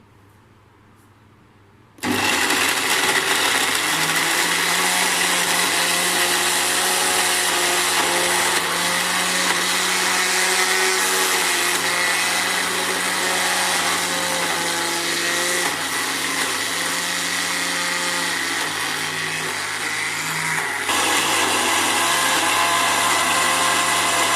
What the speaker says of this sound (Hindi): अब हम ग्राइंडर में बादाम पीस लेंगे